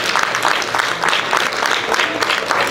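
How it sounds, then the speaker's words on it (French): Dense, close applause fills a concert hall on its opening night, a steady wash of many hands clapping at once without a break. "ça vaut une bonne main d'applaudissements"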